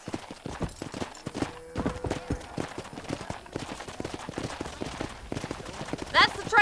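Horse hooves clip-clop at a steady trot in the Red Dead Redemption video game, repeated evenly through the stretch with faint game ambience beneath.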